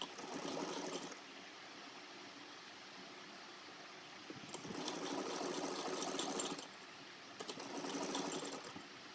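A sewing machine stitches lace onto a small dress in short runs: steady rapid mechanical whirring that starts and stops three times, fairly quiet and close, with soft clicks between runs.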